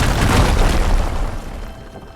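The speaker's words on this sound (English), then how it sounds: "Explosion." A deep, booming explosion from the Horizon Forbidden West video game erupts loud and close, with rumbling low-end debris that slowly fades away over a couple of seconds.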